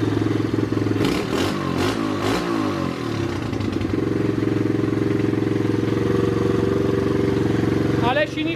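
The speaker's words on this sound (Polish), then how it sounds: "Ale silniczek cichutko pracuje." A rebuilt Loncin 110/125 motorcycle engine set up for a turbo runs close by, first revving with clattering bursts and then settling into a loud, steady, even idle, with no talk over it.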